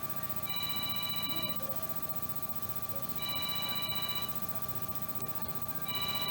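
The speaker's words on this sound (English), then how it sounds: "Here go the phone again." A telephone rings in three evenly spaced trilling bursts over a steady low room hum, with no talking.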